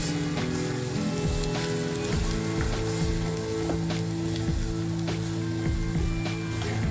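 Prawn thoran being stirred and mixed in a hot pan, a steady dense sizzle with soft crackling and occasional scraping of the spoon, close and continuous with no voices.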